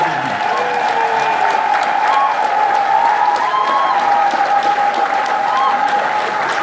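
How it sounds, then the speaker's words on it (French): Congregation at a church prayer meeting in Paris applauding steadily, a dense, continuous wash of clapping with some crowd voices mixed in, loud and sustained throughout. "Acclame encore Jésus."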